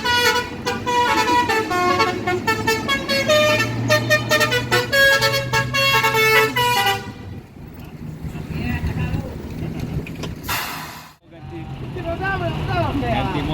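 A Pertamina fuel truck built on a Chevrolet chassis passes on the road, its engine rumble and road noise rising after a stretch of loud music and holding steady to the end.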